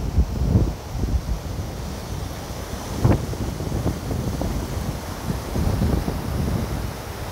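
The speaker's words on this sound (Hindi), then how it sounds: "पानी आता हुआ तेज़ी से नीचे की तरफ जाके इस तरफ जा रहा है" Mountain river water in Neelum Valley rushes downhill, giving a steady, broadband roar with some gusty wind buffeting against it and no talking.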